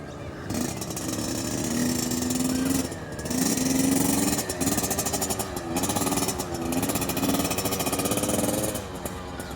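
A kid's small motorbike, ridden by a 12-year-old, buzzes along in first gear, its engine note loud and near, rising and dipping with throttle changes for several seconds.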